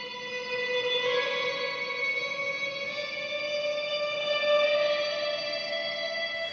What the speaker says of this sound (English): And then if I add my drone reverb